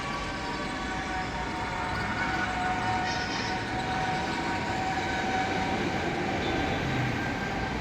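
A metro train passing at Uttara North in Dhaka makes a continuous loud rumble with a steady whine on top, running unbroken throughout, with no voices.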